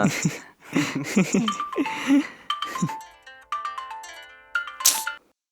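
A mobile phone ringtone plays a bright repeating melody after some conversation, then stops abruptly when the call is cut, leaving silence; people talk over the start.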